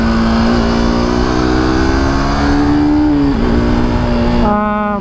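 A KTM RC 250 motorcycle engine on a test ride holds a loud, steady droning note close by, briefly dipping in pitch, then stepping to a new tone near the end.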